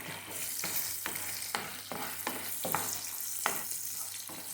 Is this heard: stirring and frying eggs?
yes